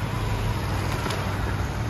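A newly delivered car gives off a steady, fairly loud rumble of engine and road noise, continuous and unchanging throughout, with no voices.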